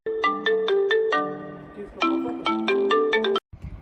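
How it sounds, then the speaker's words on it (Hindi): A melodic electronic phone ringtone plays two repeating phrases of bright, quick notes, loud and close, then cuts off abruptly near the end. "तभी उसकी माँ का फोन आ जाता है।"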